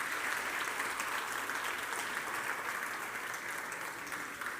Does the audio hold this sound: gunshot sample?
no